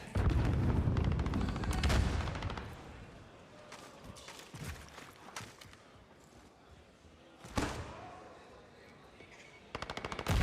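Gunfire in a competitive Call of Duty esports match between Dallas Empire and Florida Mutineers, with bursts of rapid automatic fire and sharp single shots in irregular clusters, loud at first and then sparser, with occasional commentary faintly underneath.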